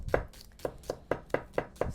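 A knife chopping a medium-sized onion on a cutting board, about nine crisp, evenly spaced strokes in quick rhythm, close and clear with no talk.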